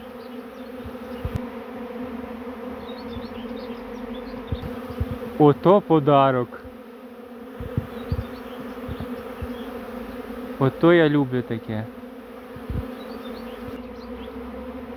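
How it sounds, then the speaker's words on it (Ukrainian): A large honeybee swarm arriving and entering a hive makes a loud, continuous close buzzing drone throughout, while a person speaks briefly twice over it. "Доброго дня, покажу, який рій прилетів."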